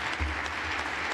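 Audience applause at a press conference introducing the UConn men's basketball head coach, a short burst of steady clapping from a crowd of journalists, fairly faint and continuous with no voices.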